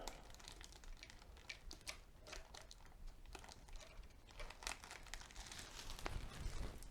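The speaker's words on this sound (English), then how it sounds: "this is a little bit easier to do with the scissors than it is with the razor blade" Scissors snipping through plastic window film while trimming it to fit an old window frame, a close run of crisp crinkling cuts and rustles that grows a little louder toward the end.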